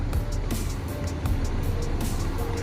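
A coach bus arriving in West Sumatra after the trip from Java, its diesel engine rumbling close by with hissing bursts and mechanical clatter from the heavy vehicle.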